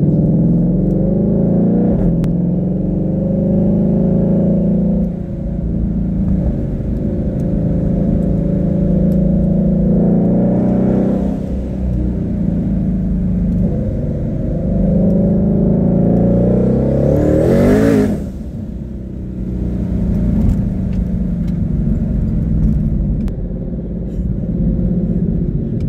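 A twin-turbo Ford GT500 accelerating hard, its loud, close engine roar building steadily through the gears with a brief shift break midway, then pulling strongly again; no talking.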